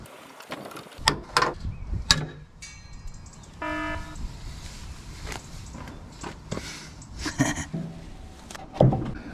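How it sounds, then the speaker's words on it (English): Grille clips and screws come off the rusty front end of a car: ratcheting tool clicks, plastic snaps and metallic clunks, mixed with nearby footsteps. "let's remove all these grill clips and screws and whatever else is attached to this front end"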